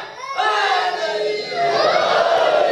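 At a Muharram religious gathering, a large crowd shouts a slogan in unison, a loud sustained roar of many voices that swells and holds.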